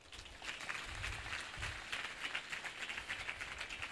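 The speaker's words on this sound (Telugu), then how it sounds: "చప్పట్లు కొట్టి." A church congregation at a prayer service in Guntur claps hands together, a continuous moderately faint applause with rhythmic patter that swells slightly midway and keeps going.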